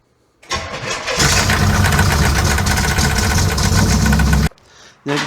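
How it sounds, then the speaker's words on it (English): A Pontiac Trans Am engine cranks after a moment of quiet, catches and settles into a loud, rumbling idle, then drops away briefly before another burst of engine noise at the very end. "Alright, now we start the engine."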